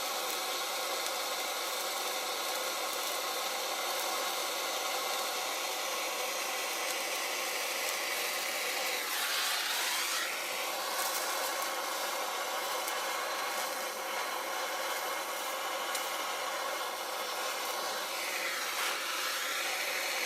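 Heat gun blowing a steady, loud airy hiss while melting a flower design off a new matrix-making mat, continuous and close with slight shifts in tone, no talking.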